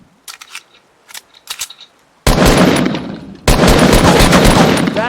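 Gunfire in the Fortnite video game on PC, a few short scattered shots followed by two loud sustained bursts of rapid fire, no talk.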